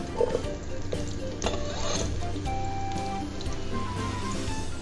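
Onion sautés in olive oil for beef caldereta with a steady bubbling sizzle and light crackle. Occasional stirring clinks and scrapes come through at close range.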